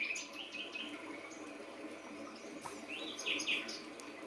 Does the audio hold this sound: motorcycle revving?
no